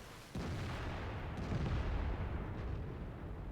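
A tank gun firing in World of Tanks, a sudden loud boom followed by a long rumbling roar that stays heavy to the end.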